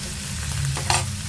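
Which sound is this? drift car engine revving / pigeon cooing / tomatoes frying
tomatoes frying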